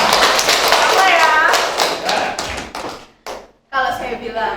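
Children in a kindergarten classroom clap their hands in a short burst of sharp claps, heard amid an adult's speech and children's voices.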